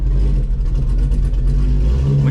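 A C5 Corvette engine with a swapped cam idles and chops on its first drive around the block, a loud, steady, lumpy low rumble close by, with no talk over it.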